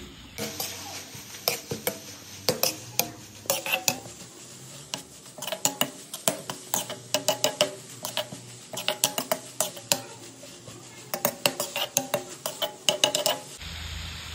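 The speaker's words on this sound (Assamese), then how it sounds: "ঘিউতে ধুনীয়াকৈ গাজৰখিনি অলপ টাইম ভাজিব লাগিব" Carrots frying in ghee in a pan for carrot halwa, with a spoon repeatedly scraping and clinking against the pan in irregular bursts over a soft sizzle, close and fairly loud, no talking.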